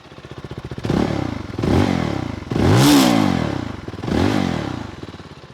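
Zontes 350 X motorcycle from 2023 idling near, its engine revved four times in succession, each throttle blip swelling into a loud exhaust bark before dropping back to a steady thumping idle.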